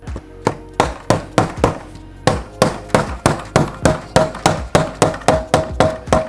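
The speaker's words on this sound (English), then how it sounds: "take your hammer and hit all around the outside to seal the bucket" Steady series of sharp hammer taps on a plastic bucket lid, roughly evenly spaced, pausing briefly once before continuing at the same brisk rhythm.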